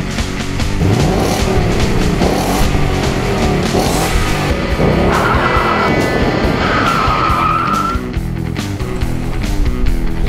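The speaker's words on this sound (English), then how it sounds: "rev up your engine" Loud race car engine roaring and revving, with tires squealing and skidding, continuous and close throughout.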